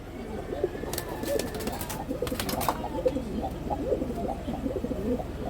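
Giribaz pigeons coo in a steady, overlapping murmur close by, soft throaty calls repeating throughout with a few faint chirps mixed in.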